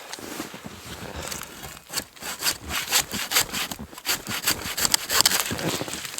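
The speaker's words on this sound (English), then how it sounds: "So the saw works pretty good, I gotta say." A small, cheap hand saw cuts through wood in fast, rhythmic back-and-forth strokes, close and fairly loud, with a brief pause partway through and no talking.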